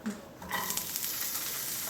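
Food sizzles steadily in a hot pan, a bright crackling hiss that starts after a brief quiet moment and carries on evenly.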